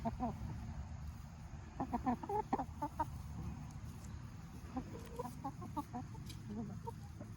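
Backyard chicken hens, including a Wyandotte, clucking in short bursts close to the listener, with soft scattered calls over a quiet outdoor background.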